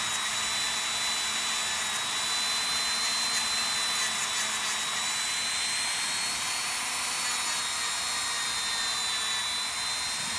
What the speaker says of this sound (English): you get what you can with the nail nipper and just grind down the rest